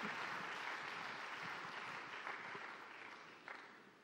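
A church congregation applauds in a steady wash of many hands clapping, sustained for several seconds and slowly fading, heard from a distance.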